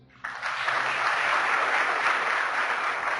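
A church congregation bursts into applause after a moment of quiet, the clapping swelling quickly and holding as a dense, even patter with no voices over it.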